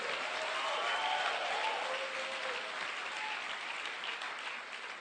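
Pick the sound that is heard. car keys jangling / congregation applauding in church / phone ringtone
congregation applauding in church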